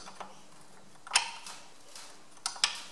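Nut being tightened on a steering knuckle puller for a Ferguson TE20 or 35 tractor, steel against steel: a few faint, sparse metallic ticks and clicks alone, with one sharper click near the middle and two more toward the end.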